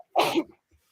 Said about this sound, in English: I got the sneezes here.